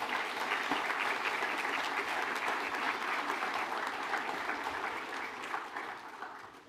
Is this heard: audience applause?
yes